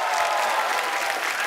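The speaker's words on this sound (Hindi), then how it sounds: "तो तालियां और तेज हो जाएगा" A studio audience on The Kapil Sharma Show, a TV comedy program, claps in a loud, dense, sustained burst of applause with faint crowd murmur beneath.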